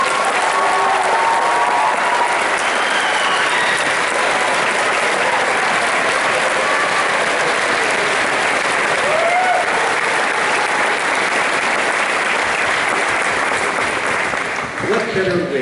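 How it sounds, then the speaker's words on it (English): Sustained audience applause after a concert band performance at Sonoma State's honor band weekend, loud and steady throughout with crowd noise, tapering slightly at the very end. "One more round of applause for these fine folks."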